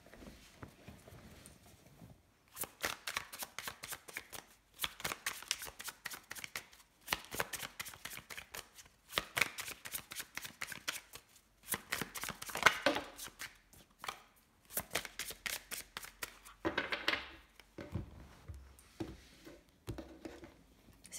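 Tarot cards being shuffled close up: crisp riffling bursts of flicking cards repeat in steady rounds with short pauses between them, and no one speaks.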